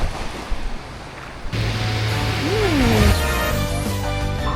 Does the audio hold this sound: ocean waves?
yes